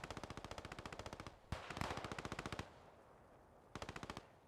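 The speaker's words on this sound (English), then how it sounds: "Rifle fire coming in, more machine gun fire." Rapid bursts of machine gun fire mixed with rifle shots crackle across a bridge battle in the Post Scriptum video game, three rhythmic volleys separated by brief pauses, moderately distant and without talk.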